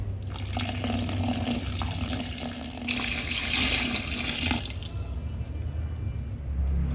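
Water from a rinsed mixer-grinder jar is poured into a container, a steady splashing stream running throughout, growing louder and brighter midway before easing back, with no talk.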